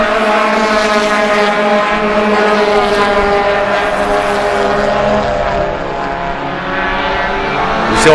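Volkswagen race cars in a VW Pozidrive Challenge race sweep past on the track, a loud, sustained engine drone with shifting pitch as the field goes by, rising again near the end.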